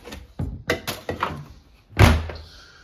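A Chamberlain Whisper Drive garage door opener moves a recently lubricated garage door, giving a series of separate thunks and clunks, with a heavier, louder knock near the end.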